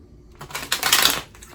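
Tarot cards being shuffled, a brief crisp riffle of rapid papery clicks building to a dense flurry, close and alone.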